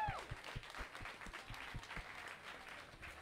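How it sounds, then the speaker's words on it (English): A small audience gives a brief round of applause after a coral restoration presentation. Quiet, distinct hand claps sound for about three seconds. "Another round of applause for Dahlia, please."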